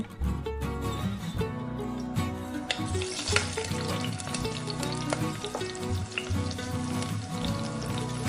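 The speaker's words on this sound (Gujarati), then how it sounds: "તેલ હળવું ગરમ થાય એટલે એક નાની ચમચી આખું જીરું નાખો" Whole cumin seeds crackle and sizzle in a spoonful of warm oil for a sabudana khichdi tempering, a steady frying hiss that swells partway through over a tonal musical background.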